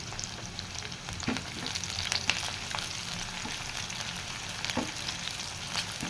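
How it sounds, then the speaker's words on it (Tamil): Onion and green chillies sizzle steadily in hot oil in a pan, a close, continuous frying crackle with occasional stirring scrapes and no voices. "வெங்காயத்தை நல்லா பொன்னிறமாக வதக்கி விட்டுக்கலாம் இது கூட நம்ம எடுத்து வச்சுருக்கக்கூடிய பச்சை மிளகாய் சேர்த்துடலாம்"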